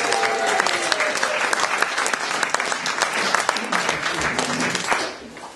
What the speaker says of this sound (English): Goran Haven Fishing, let's give him a big round of applause, please.